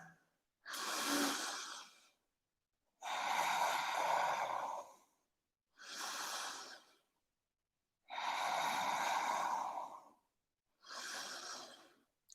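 Slow, deep breathing during a family yoga pose: five long, loud breaths close to the mic, each a few seconds of airy inhale or exhale separated by short silent pauses, with no talking.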